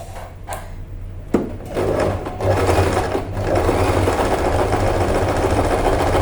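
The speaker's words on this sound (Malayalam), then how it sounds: "നമ്മുടെ മെഷീനിലേക്ക് എടുത്ത് വെച്ചിട്ട് നമ്മളിങ്ങനെ ഈ സൈഡിൽ നിന്ന് തയ്ച്ച് വരുന്നു" A sewing machine stitches a pleated nighty, starting with a few knocks and clicks, then running into a steady, close, mechanical whirring rattle that continues to the end.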